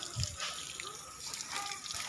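Water is poured in a thin stream, splashing and trickling for a couple of seconds at a moderate distance, with faint background noise and no clear speech.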